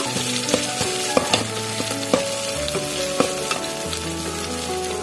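Minced pork sizzling and being stir-fried in a rice cooker, steady frying hiss with scraping clinks of a utensil at irregular intervals.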